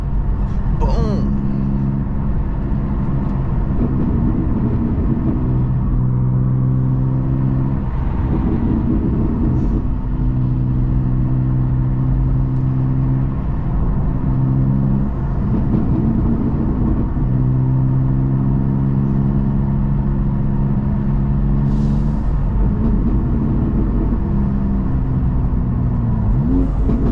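A BMW M2 GT3 race car engine idles and revs in a long, loud, steady exhaust rumble with pitch rising and falling repeatedly, heard close up with no other sounds over it.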